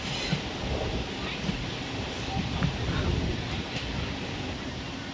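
A passenger train on the Kuzhithurai to Rameshwaram route pulling out and rolling along the rails, a dense steady rumble with faint squeals and clicks, heard from inside the carriage.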